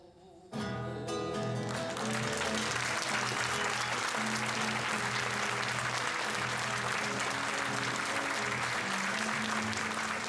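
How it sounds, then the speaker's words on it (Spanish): Sustained applause from a large crowd honoring the late Chilean actor Lucho Alarcón at a farewell tribute with Chilean music, loud and continuous throughout, with faint music tones underneath. "Un aplauso que reviente por el gran Lucho Alarcón."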